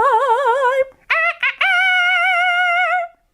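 A loud, close cock-a-doodle-doo crow: a wavering opening note, a few choppy bursts, then a long sustained final call.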